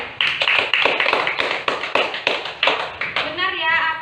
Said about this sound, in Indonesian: Jadi kasih tepuk tangan dulu buat Adel.